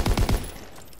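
Rapid burst of automatic gunfire in a World War II shooter game, three or four close, punchy shots in quick succession that fade into a short decaying tail, with no talking over it.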